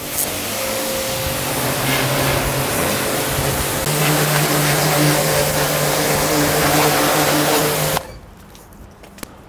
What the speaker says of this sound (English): First step, just rinsing the loose dust off of it.